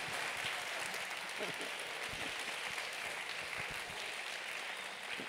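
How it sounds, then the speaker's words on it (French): Audience applause at a screening followed by a debate, honouring the film's director: a dense, steady wash of clapping from a full room, sustained evenly for several seconds without letting up. "Je vous demande d'applaudir très fort Daniel Bouy, le réalisateur de ce film"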